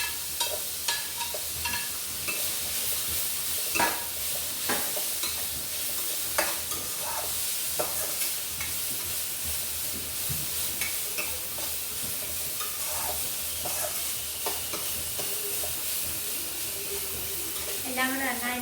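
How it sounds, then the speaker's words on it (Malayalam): Onion, ginger, garlic and shallots sauté in a pan for beef curry, giving a steady sizzle with scattered scraping and stirring clicks from the spoon, close and continuous, with a brief splash of running water near the end. "സവോള, ഇഞ്ചി, വെളുത്തുള്ളി, ചെറിയുള്ളി ഇത്രയും വഴറ്റിയെടുത്ത്"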